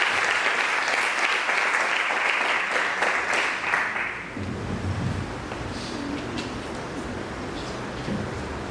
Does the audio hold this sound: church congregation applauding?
yes